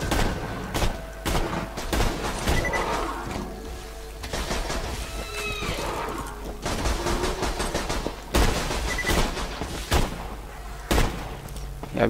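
Gunfire in the video game Borderlands 2 crackles in repeated sharp bursts and single shots across the whole stretch, loud and close, with a player talking between them.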